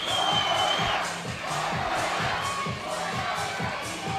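Loud crowd cheering and shouting fills a 3x3 basketball quarter-final at an Olympic qualifying tournament, a sustained roar with surging whoops over rhythmic stomping or clapping beats.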